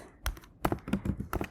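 Quick, light taps on a computer keyboard come close and clear as a few short bursts of keystrokes across a brief moment.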